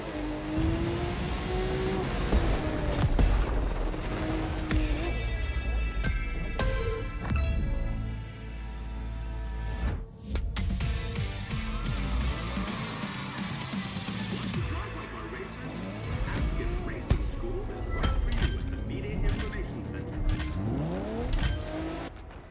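Car engine in The Crew 2 video game, revving and shifting through gears while driving, loud and near with varying pitch, occasional music-like tones and a brief voice mixed in.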